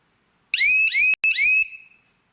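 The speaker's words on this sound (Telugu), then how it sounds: "మనం హారన్ సౌండ్ తగ్గించిన అట్లా లైట్గా వస్తుంది." An electronic horn alarm from a Bharat baler automatic control unit sounds three rising, warbling tones in quick succession with a brief cut between the second and third, clear and alone.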